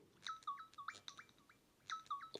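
The Jungle alert tone on an Apple Watch running watchOS 11 plays synthetic bird calls, a quick series of bright chirps and whistles in two short bursts with a pause between, clear and alone.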